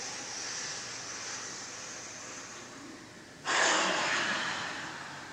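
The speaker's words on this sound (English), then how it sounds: "Big breath in." An audience at a breathwork session at BlissFest in Pleasanton draws a big breath in together, a broad airy rush that starts abruptly midway and swells loud and close after quieter hiss.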